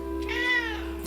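A single cat gives one clear, drawn-out meow close by during a yoga session, loud and alone against a quiet room hum.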